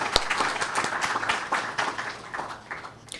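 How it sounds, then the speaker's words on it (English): Guests applaud for Mrs. Roberts at a school's 50th anniversary cocktail event, a moderate, steady round of clapping with crisp individual claps filling the room. "Please give Mrs. Roberts a round of applause."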